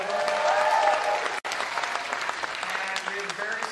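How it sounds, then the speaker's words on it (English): An audience applauds performers at an Asian American and Pacific Islander heritage event, a crowd clapping steadily through the whole stretch, with a musical tone and a brief drop partway through. "Please give a huge round of applause to both."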